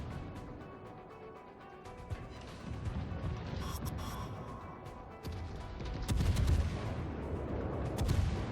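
Naval gunfire in a video game, including shots from the battleship Myogi: a sustained rumbling barrage of distant booms and crashes with scattered sharp cracks, its low thuds swelling toward the end, and no voices.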